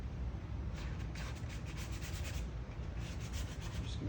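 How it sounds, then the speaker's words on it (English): Transfer tape peeling off a vinyl wrap on a Jeep Rubicon wheel, a steady, close rasping rub that continues without pause and with no talking. "and then I like to peel the transfer tape off"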